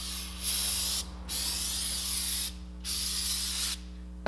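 Brake cleaner sprayed from an aerosol can onto the rear brakes of a 2007 Toyota Camry, heard as three or four loud hissing bursts with short gaps, close up over a steady low hum.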